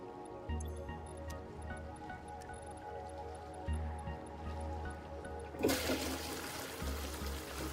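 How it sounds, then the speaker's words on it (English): Toilet flush in the Satisfactory video game: a soft rush of water starts late and runs to the end over quiet game ambience with a few dripping sounds. "The toilet works at least. Do not flush people,"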